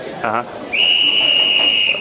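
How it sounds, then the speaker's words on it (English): A sharp, sustained whistle blast signalling time to wrap up, a bright steady tone lasting over a second after a brief voice, loud and close. "we're gonna have to wrap this up because we got the whistle"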